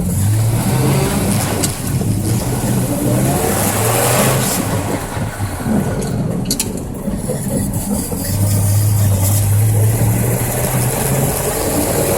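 A 1965 Ford F250 truck engine runs loud and close, with a steady low rumble that rises and falls as it revs, no talking.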